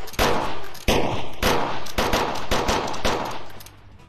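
Revolver fire in a Wild West VR shooter played on a Pico 4 headset: a run of sharp, loud shots in irregular rhythm, each with a metallic ring, tailing off at the end, no voices.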